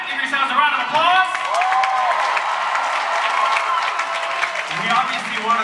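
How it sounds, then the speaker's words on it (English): A crowd at a live Christian concert applauds and cheers loudly, sustained clapping mixed with whoops and shouts, while a voice carries over the noise near the start and end. "Give yourselves a round of applause."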